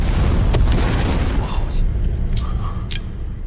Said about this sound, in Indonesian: Sampai pada akhirnya pengemis utara dan Racun Barat terlibat baku hantam yang membuat kapal tersebut meledak.